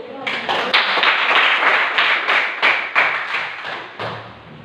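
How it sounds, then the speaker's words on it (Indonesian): A class of students clapping hands together in a classroom, a series of sharp claps with a steady rhythm close by, then fading as voices take over at the end. "Tepuk tangan dulu."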